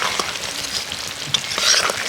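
Egg and potato curry stirred in a pan with chopped coriander, a thick simmering sizzle under soft scraping and clinking of a spoon against the pan, close and steady with no voices.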